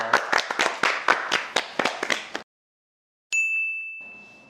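A small group claps to close an interview with successful CPA exam candidates, a short burst of quick, fairly close hand claps lasting about two seconds. After a brief silence comes a sustained bright ding.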